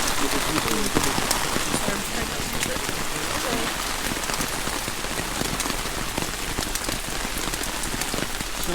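Heavy rain pours steadily at an outdoor interment of ashes ceremony under trees, a dense, loud, unbroken hiss of drops striking surfaces throughout.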